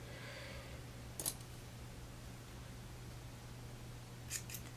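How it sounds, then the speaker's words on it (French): Scissors snip marabou feathers for fly tying a woolly bugger, two quiet crisp cuts about three seconds apart against a faint steady hum. "Je vais venir le couper."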